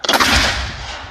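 Boom of a US Civil War artillery cannon fired with a 4-ounce powder charge at an outdoor display, one loud, close blast with a long rumbling tail.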